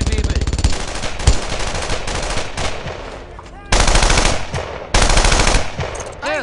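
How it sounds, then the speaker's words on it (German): Sustained MG42 machine gun fire from a Brothers in Arms World War II shooter, loud rapid bursts broken by brief pauses, with battlefield shouting and other gunfire mixed in. "Schießt auf das MG42!"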